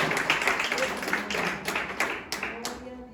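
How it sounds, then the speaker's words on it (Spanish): A church congregation claps for the Lord during a lively worship service, a dense run of hand claps with sharp accents, under a steady hum of voices and talk. "Den un aplauso al Señor"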